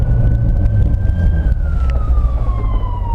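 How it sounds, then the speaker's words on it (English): An ambulance siren sounds on the road as a single steady, gradually falling wail over heavy traffic rumble, fairly close and loud, with no talking. "I'm looking behind me to see which lane the ambulance is going to choose"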